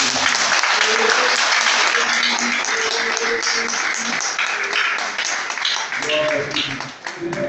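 A church congregation applauds loudly and continuously, a dense wash of many hands clapping with cheers and voices mixed in, tapering slightly toward the end.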